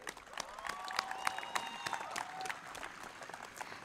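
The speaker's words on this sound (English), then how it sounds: "Can we please applaud for them?" Convocation audience at a design institute in Pune applauds an award recipient, a steady wash of clapping throughout with brief whistling or cheering tones layered over it.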